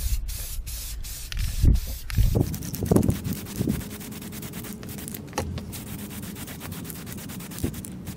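Aerosol spray paint hisses in short bursts as the first silver coat goes onto a homemade Red Bull helmet with taped-up straps, with handling and rubbing noises between passes, close by and no talking.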